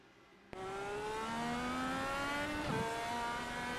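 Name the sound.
DW12 race car engine under power at Pocono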